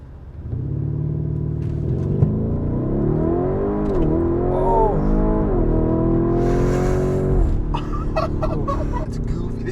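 A 2.5-ton Lamborghini Urus SUV launches from a stop on a street, its engine rising in a loud, continuous climbing roar through several gear changes before easing off near the end.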